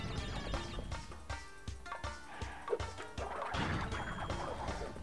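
A crash and smash burst out in the Crash Bandicoot 3 video game, with a series of thumping impacts and clattering debris over busy game audio, followed by a rushing, gurgling swell.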